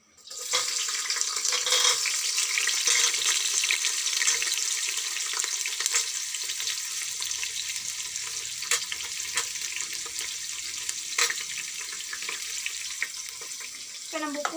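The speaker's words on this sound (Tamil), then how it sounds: "இப்போ நம்ம வெங்காயம் போட்டுடலாம்." Chopped onions frying in hot oil in a home kitchen, a loud steady sizzle throughout with occasional stirring clinks and scrapes, no talking.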